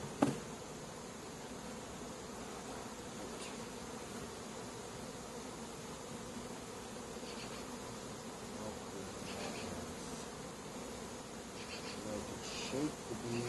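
Dense, steady buzzing of many bees swirls close around an open beehive being worked in July, a continuous droning hum with individual bees passing nearer now and then.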